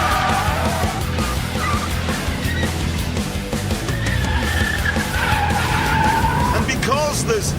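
Fat-tyred American car sliding as its grip lets go at very high speed, tyres squealing in rising and falling streaks over steady engine roar, with talking throughout.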